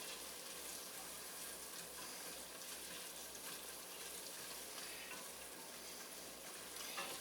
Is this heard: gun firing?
no